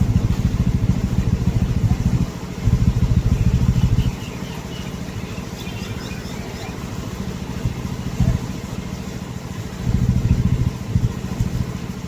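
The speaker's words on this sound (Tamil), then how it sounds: "இதில் ஒரு ஆட்டோ ஒன்று வருது பாருங்க" A small auto rickshaw engine putters and revs nearby, rising and falling as it pushes through floodwater on a flooded street in Jaffna, with a steady rumble throughout.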